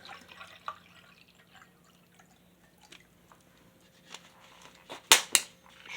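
Water poured out for an isotonic drink from a French 2020 Menu 13 RCIR ration, heard as faint, sparse trickles and drips, then a couple of sharper splashes near the end.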